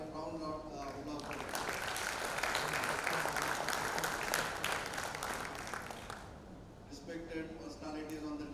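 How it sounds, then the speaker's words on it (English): Audience applause at a medical stroke conference honouring stroke ambassadors, a dense sustained wash of clapping from a large hall that swells and then tapers, with voices and music-like tones around it. "we should give a round of applause"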